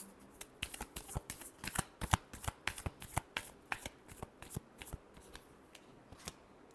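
A deck of tarot cards is shuffled by hand close up, a quick run of crisp, riffling snaps and slaps repeating in a steady rhythm with no talking.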